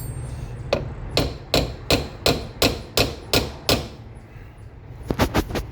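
A hammer strikes a stuck rear brake drum on a Triumph Spitfire in about ten sharp metallic blows at a steady rhythm, a short pause, then a quick burst of three more, close and loud.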